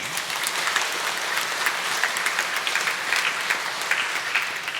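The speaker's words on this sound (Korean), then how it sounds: "우리 환영과 축복의 박수 드리겠습니다" A church congregation at a Sunday service in Jeonju claps in welcome for a newly registered member, a steady, dense burst of many hands filling the hall at even loudness for several seconds with no talk.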